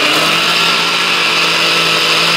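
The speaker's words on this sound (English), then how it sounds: "Now you're gonna blend your milk." A blender runs steadily at high speed, whirring as it blends milk with marigold petals. The motor is loud, constant and close throughout, with no voices.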